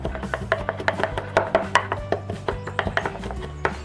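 Garlic and coarse salt pounded into a mash in a covered mortar for gas-grilled roast chicken, a steady run of quick, close knocking strikes with no talk over them.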